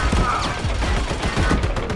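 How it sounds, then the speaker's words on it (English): Minigun turret firing in the Army of Two co-op game, a continuous dense roar of rapid-fire shots that sounds loud and close, with no talking. "Minigun turret."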